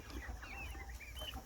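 Chickens raised from egg-swap hatching eggs cluck in a busy backyard flock, several birds overlapping in soft, steady calls close by, with no voices.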